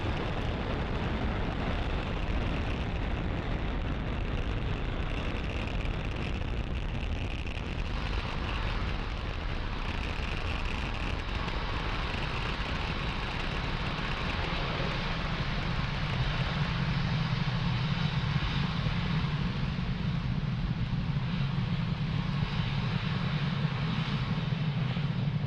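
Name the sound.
SpaceX Falcon 9 rocket engines during launch ascent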